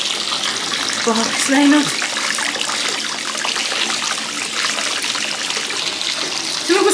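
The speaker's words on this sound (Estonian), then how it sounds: "paneme selle pommikese sinna vette, vaatame, mis ta teeb" A bath bomb dropped into bathwater, giving a steady fizzing, bubbling hiss of water close by that runs throughout, with a few brief spoken words over it.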